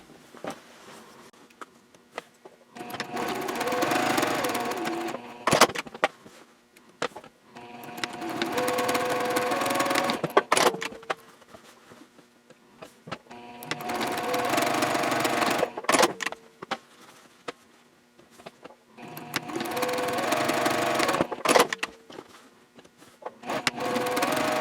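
Sewing machine top-stitching a Hannah sling bag along its folds, running in four sustained bursts of several seconds each, separated by short pauses and clicks, fairly close and steady.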